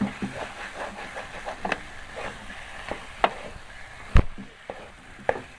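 Semolina halwa roasting in a pan over medium-low heat, stirred constantly with a spoon: soft sizzling under repeated scraping strokes and occasional sharp clinks of spoon against pan, close and moderately loud.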